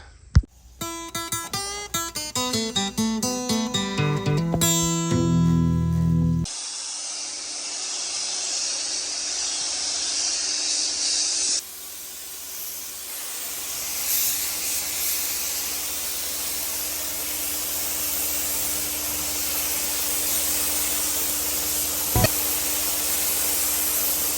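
A spray gun lays paint on a part for a 1965 Chevy C30 dually truck, a steady loud hiss that runs for a long stretch after a burst of music at the start.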